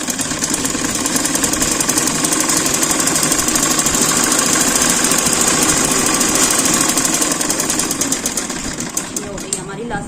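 A sewing machine runs steadily, stitching elastic into a trouser waistband, loud and close with a fast even rattle for most of the stretch before slowing near the end.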